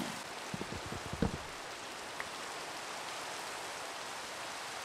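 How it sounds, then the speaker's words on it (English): Steady rain hiss in Minecraft fills the whole stretch, with a cluster of soft thumps and knocks near the start, then only the continuous downpour. "Nope, still raining."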